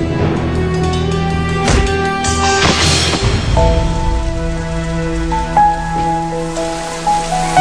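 Steady rain patters loudly and evenly on a surface, with soft sustained tones ringing faintly beneath the downpour.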